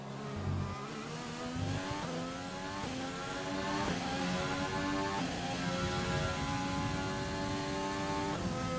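An F1 car in F1 2020 shrieks at high revs. It downshifts under braking with several stepped pitch drops, then climbs steadily through the gears as it accelerates out of the corner, loud and continuous.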